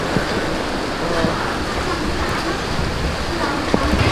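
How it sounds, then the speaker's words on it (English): Heavy tropical rain in Thailand pours down in a steady, dense roar of hissing water with no break. "It's raining hard here."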